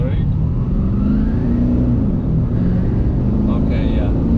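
Nissan Titan XD pickup with a Cummins diesel engine accelerating on a test drive, a loud continuous low engine drone rising and falling steadily throughout the cabin, with no clear talk.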